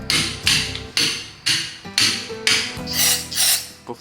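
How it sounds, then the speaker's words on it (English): Tightening wheel nuts on a Ford Transit during a brake job gives a series of about eight sharp metallic clicks or knocks at a steady rhythm, loud and close, with no talking. "We're gonna torque these down."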